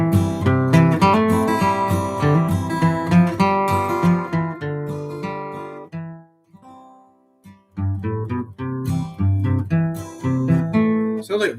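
A guitar plays the tune Under the Double Eagle as a fast run of plucked notes. It stops for about a second and then picks the melody back up, clear and prominent throughout.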